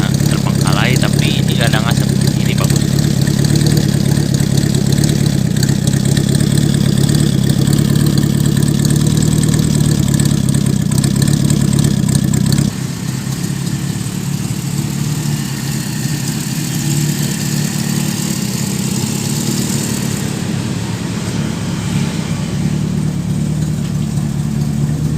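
A 1980 Toyota Kijang KF-10 idles with a steady, loud, low engine drone that drops to a quieter, smoother idle about halfway through.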